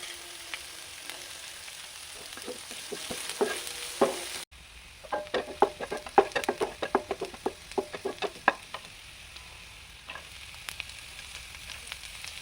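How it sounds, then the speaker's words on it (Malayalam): Chopped onion sautéing in a pan for egg rice crackles with dense, close sizzle and quick spatula clicks and scrapes. There is a brief cut partway through, and then the stirring picks up again. "സവോള നന്നായി വഴണ്ടി വന്നിട്ടുണ്ട്."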